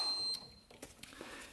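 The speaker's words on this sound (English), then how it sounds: "And you can see it's beeping with the key off." An old snowmobile, left untouched for 30 years, gives a thin electronic beep with the key switched off; one steady tone stops after a moment, leaving faint clicks and handling noise.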